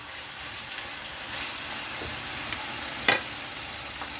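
Rump steak sizzles in a frying pan with a steady, close hiss throughout, and a couple of brief clinks and scrapes stand out against the constant fry.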